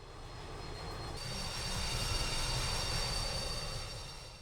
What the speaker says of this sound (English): the plane began taxiing towards the runway